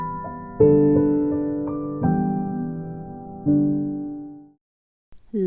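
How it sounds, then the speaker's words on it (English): Piano playing three sustained chords in slow succession, each struck clearly and left to ring and decay before the next, then silence and a faint voice starting at the very end. "A piano sounds like this."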